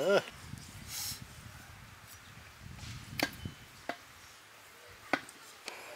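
Buffalo tongue meat is chopped with a knife: a few sharp, separate chops spaced about a second apart, close but fairly quiet, under ongoing talk and background noise.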